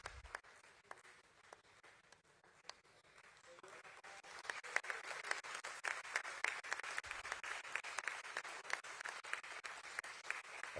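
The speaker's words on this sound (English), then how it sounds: "A huge round of applause, ladies and gentlemen" Applause at a stock exchange listing ceremony for Jio Financial Services at the BSE swells from scattered claps into a sustained crowd ovation, fairly distant and building in density toward the end.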